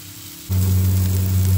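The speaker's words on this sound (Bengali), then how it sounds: "মশলাটা মোটামুটি কষে যাচ্ছে" Masala for a boal fish curry fries in a pan, bursting into a loud, steady sizzle with an underlying hum after a quieter moment, close and continuous.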